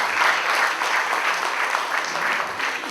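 Audience applause for a guest at a Marathi talk event, the guest being a well-known mountaineer, photographer and writer. It is a full, steady round of clapping from a crowd, sustained and even, without speech over it.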